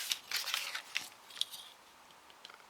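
Scissors snip through a thin strip of card, a handful of quick crisp cuts close by in the first half, then quieter faint rustles.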